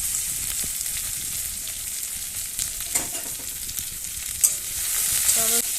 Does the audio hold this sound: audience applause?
no